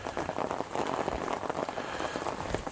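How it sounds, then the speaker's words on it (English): Steady rain patters densely on a surface at a campsite in Great Smoky Mountains National Park, a continuous hiss of drops with no voices. "if it would stop raining for a dang gum second"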